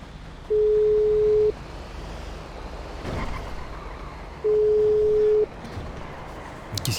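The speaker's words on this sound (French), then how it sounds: "On va appeler Olivier, on lui demander s'il est ok ou pas" In GTA V, a phone call's ringing tone sounds twice, each a steady one-second electronic beep separated by about three seconds, loud over a background of game car noise.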